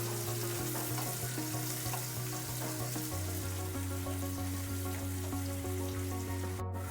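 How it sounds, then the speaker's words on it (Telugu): Chopped onions sizzle in a hot pan for a hotel- and dhaba-style masala chicken curry, a steady, close hiss of frying with a low mechanical hum underneath and no talking. "ఇప్పుడు ఆనియన్ వేసేద్దాం. ఇది మొత్తం బ్రౌన్ కలర్ వచ్చే వరకు ఫ్రై చేస్తాం."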